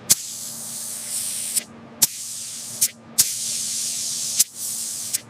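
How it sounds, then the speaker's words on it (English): Robotic sprayers coat the exterior of a high-speed train in repeated bursts of loud, steady hissing spray, each lasting about a second and opening and closing with sharp clicks. "Robotic systems apply smooth coating layers, keeping thickness even across the full surface area."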